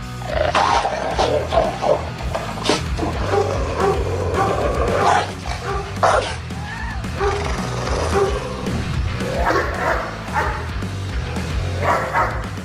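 Doberman barking in repeated loud bursts with some yipping and growly edges, the barks spaced irregularly over a constant low background rumble.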